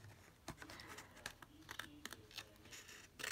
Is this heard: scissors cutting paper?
yes